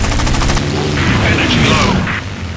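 Heavy gunfire rattles in a video game, a dense continuous barrage of shots loud and close, with voices and machinery noise mixed underneath throughout.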